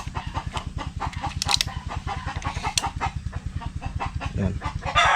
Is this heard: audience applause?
no